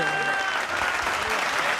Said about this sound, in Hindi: अब तालियां चाहिए